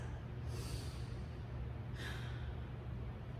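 Two slow, deep breaths held in a squat stretch, each a soft airy exhale about a second and a half apart, faint and close over a steady low background hum.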